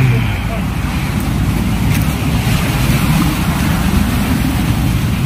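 Big storm-driven ocean waves surging on the shore during a typhoon, a loud, constant roar of surf mixed with gusting wind close to the microphone.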